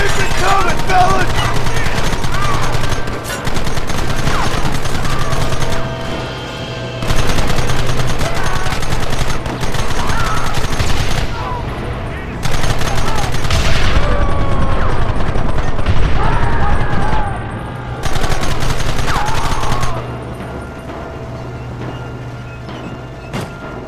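Rapid, sustained gunfire from a Red Dead Redemption shootout, with loud overlapping bursts and volleys that barely pause across the whole stretch, while voices shout over the din.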